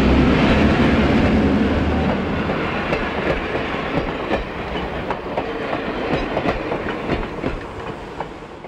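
A passenger train hauled by an E7 diesel locomotive rounds a curve and rolls past close by with a steady rumble, and rhythmic clickety-clack from the wheels on the rail joints grows as the cars go by.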